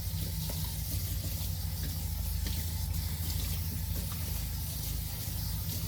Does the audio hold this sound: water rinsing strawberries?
yes